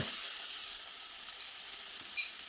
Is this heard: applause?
no